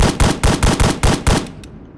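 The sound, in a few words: SVD-S rifle firing in video game BRM5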